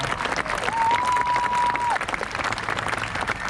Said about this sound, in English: I think another hand clap is fine